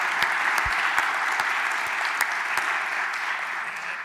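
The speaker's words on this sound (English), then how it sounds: "let's put our hands together and give our speakers another round of applause" An audience claps steadily for the speakers at a university talk, a dense, even wash of applause with a few sharper nearby claps standing out.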